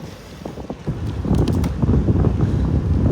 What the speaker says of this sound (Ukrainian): вітер дує, не жарко